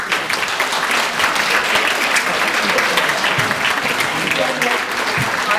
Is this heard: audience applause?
yes